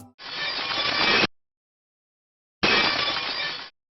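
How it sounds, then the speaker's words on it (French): Two separate bursts of shattering glass, each about a second long and loud, broad and crackly, with a clean silent gap between them. "on entend vraiment un bruit de verre qui se brise"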